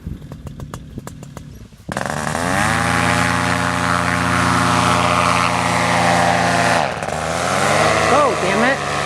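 A paramotor engine and propeller hums steadily at close range after an abrupt start, its drone holding through a landing with a brief dip, accompanied by wind and handling noise.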